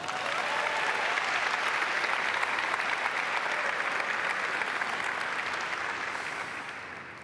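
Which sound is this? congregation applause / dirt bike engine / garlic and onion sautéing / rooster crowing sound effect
congregation applause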